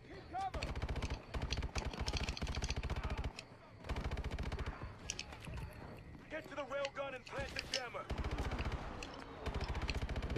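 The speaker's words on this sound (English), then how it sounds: "they're shooting as soon as they get" Enemy gunfire in the Call of Duty Advanced Warfare campaign: dense, rapid bursts of automatic shots that keep crackling almost without pause, briefly dropping before resuming, with voices talking over the fighting.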